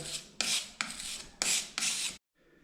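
Filler is spread into wall cracks in rough scraping strokes that repeat in an even rhythm, about five close rasping passes, then a sudden stop into near silence.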